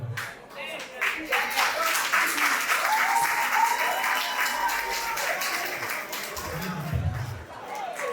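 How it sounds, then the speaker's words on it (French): Wedding guests applauding together, a sustained wash of clapping with some crowd noise and voices mixed in, fading near the end. "On applaudit encore."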